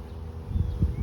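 A low, steady buzzing of many honeybees being shaken from a package into a new hive, swelling louder in short bursts near the microphone with no voices.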